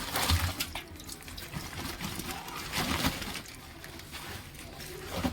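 Water splashes over freshly caught fish beside a village dam on a fishing outing, in uneven sloshing bursts close to the microphone. Faint voices can be heard in the background.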